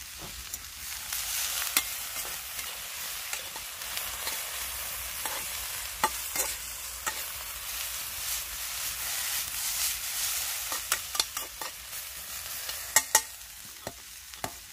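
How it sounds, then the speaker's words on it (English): Food sizzles and fries in a pan at a camping site, a steady hissing bed broken by frequent sharp crackles and pops, with louder spits near the end. "Frying away."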